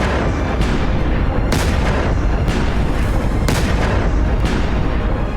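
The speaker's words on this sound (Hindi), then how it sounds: "हाइड्रोजन ज्यादा ज्वलनशील होती है, छोटी से छोटी गर्माहट में भी ये आग पकड़ सकती है और इसी वजह से गुब्बारे में धमाके होते हैं" Hydrogen-filled gas balloons burst into fire with a run of loud, heavy booms, roughly one per second, each a sharp blast that blurs into a dense rumbling roar with no voices.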